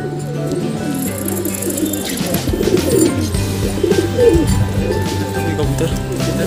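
Pigeons cooing after a water bath, their soft repeated coos close by and steady throughout, with a low voice murmuring underneath.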